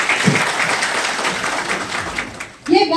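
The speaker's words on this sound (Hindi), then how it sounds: "इस प्रोडक्ट के लिए जानदार शानदार तालियां होनी चाहिए" An audience claps and cheers at a business presentation, a dense, steady wash of applause lasting several seconds with voices mixed in.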